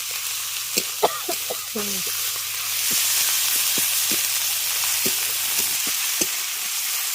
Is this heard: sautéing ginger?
yes